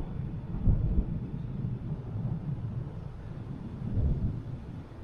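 Low rumbling wind buffets the microphone while travelling outdoors in northern Virumaa, Estonia, rising and falling in gusts.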